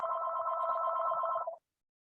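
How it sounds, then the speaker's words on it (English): A telephone rings inside a house in one sustained electronic trill lasting about a second and a half, then cuts off to silence, clear and alone. "Is that phone ringing in that house?"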